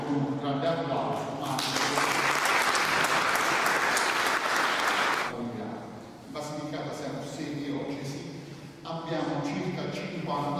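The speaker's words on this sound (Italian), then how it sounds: "Lo accogliamo con un grande applauso." An audience at a pastoral family-ministry school session in southern Italy bursts into loud applause welcoming a speaker, the clapping swelling quickly, holding for a few seconds, then giving way to someone talking.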